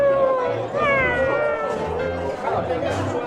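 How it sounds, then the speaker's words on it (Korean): A cat that wanders up to an evening seating spot in Shanghai gives several drawn-out, wavering meows close by, while people chat over and around them. "왜 갑자기 고양이가 나타나?"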